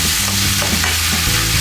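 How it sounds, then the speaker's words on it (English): Sausage meat being broken up and minced in a frying pan, sizzling loudly and steadily throughout, with stirring and scraping close by and no talking. "we're just going to mince that meat up."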